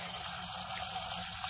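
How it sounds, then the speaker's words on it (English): Water pours into a cooking pot in a home kitchen, a steady, close, rushing splash that runs unbroken throughout with no voices. "Put some water there."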